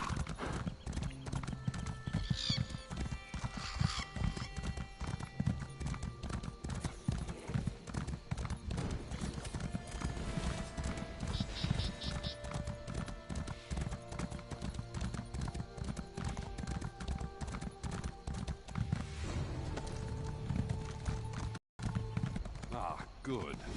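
Horse hooves clip-clop steadily throughout a ride across a town in The Amulet of Kings, a fantasy role-playing game, with occasional whinnies under game music and a short dropout near the end.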